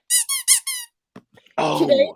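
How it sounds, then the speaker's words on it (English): A squeaky pig toy squeaks four times in quick succession, loud and close, then a person starts talking. "Did you find your Squeaky Pig?"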